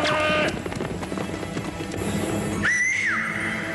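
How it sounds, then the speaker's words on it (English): A horse whinnies amid clattering hooves and commotion, then a second high, drawn-out neigh rings out near the end. "The horses bolting away."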